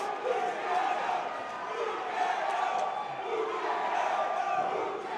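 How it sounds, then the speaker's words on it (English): Crowd at a grappling match between Teddy Babaloa and Livingston Lukow, cheering and shouting in a steady, rising roar that stays loud throughout, with a commentator's voice over it. "You can hear the crowd getting involved now."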